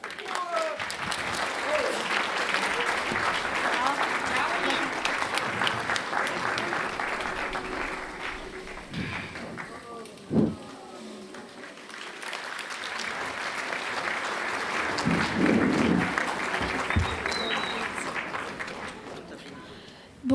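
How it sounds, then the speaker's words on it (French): Audience applause at a UNICEF concert, a steady crowd of clapping hands sustained throughout with a brief dip in the middle before swelling again, heard close and fairly loud. "Je vous demande d'applaudir Madame Caroline Wagner."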